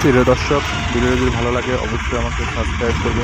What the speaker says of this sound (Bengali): এটা হচ্ছে ইঞ্জিনের সাউন্ড